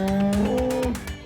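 Large foreign-breed bulls on a Shahrasti agro farm in Chandpur, Bangladesh, give a loud, close, drawn-out moo that holds steady and then fades, with faint farm background and no talking.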